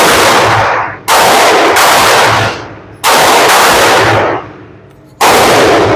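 Four loud, sharp Smith & Wesson pistol gunshots ring out about a second or more apart, each followed by a long, echoing decay before the next blast.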